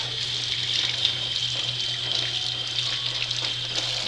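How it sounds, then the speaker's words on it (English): Steady hiss of a kitchen tap running as hands are washed before cooking chicken, a continuous close rush of water with faint splashing and no talking. "I'm going to wash my hands."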